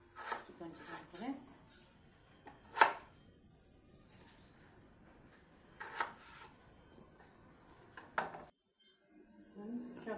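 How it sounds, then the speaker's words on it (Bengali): Beans and potatoes are sliced thinly with a knife on a board, giving scattered crisp taps and scraping cuts at an uneven pace, close and fairly quiet, with someone speaking between them. "বিন, আলু দিয়ে দেব চিকন চিকন করে।"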